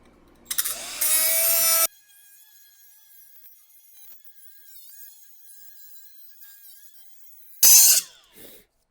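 An angle grinder with a grinding disc bites into metal in two short, loud bursts of harsh, high whine, separated by a long stretch where only a faint spinning hum remains.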